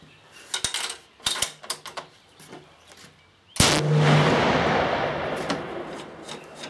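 A single loud gunshot from a lightweight .338 Lapua rifle fitted with a small T2 Terminator muzzle brake, a sharp blast with a long rumbling outdoor decay, preceded by a few clicks and handling noises.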